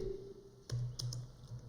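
A computer keyboard being typed on while entering text into an Excel spreadsheet, giving a few close, soft keystroke clicks over a quiet background hum.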